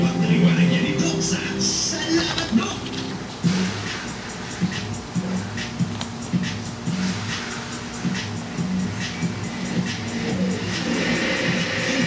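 Cars driving along a road, engines passing and revving nearby in a continuous loud stream, with a few sharper whooshes as vehicles go by.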